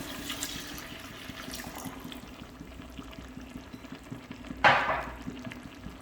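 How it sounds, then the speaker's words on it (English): Two cups of chicken broth pour briefly into a pot with a splashy burst near the end, over faint kitchen background noise. "Now we will add 2 cups of chicken broth."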